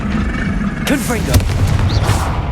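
In the video game Hogwarts Legacy, a Confringo spell bursts with a loud, close blast and a sharp crack, set against a dense, continuous din of combat noise and a voice.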